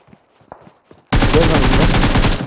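Rapid automatic weapon fire in the PUBG Mobile video game bursts in after soft footsteps and faint voices, a loud continuous stream of shots lasting over a second before cutting off.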